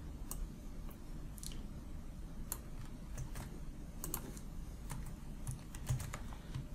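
LaTeX code being typed on a computer keyboard, a steady run of light, quick key clicks with short pauses, close and clear over a low background hum, with no one speaking.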